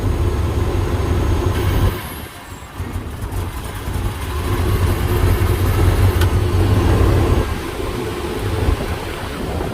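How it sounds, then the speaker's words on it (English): A truck with a 4L80E transmission swap and an exhaust leak idles close by with a steady, loud rumble. A brief dip near the start is followed by a constant drone. "I got an exhaust leak right there"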